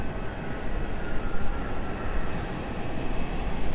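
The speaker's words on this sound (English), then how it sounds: "The MD-11 is moving." MD-11 jet taxiing at Raleigh-Durham airport, a dense steady low engine rumble with gentle swells in loudness, continuous and moderately near, no voices.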